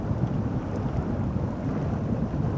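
Rain in the Snowrunner off-road driving game pours as a steady, dense hiss with a low rumble underneath, unbroken throughout.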